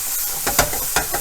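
Diced onions and jalapeño pepper sizzle in a pan while being stirred, a steady fry with a few brief scraping strokes.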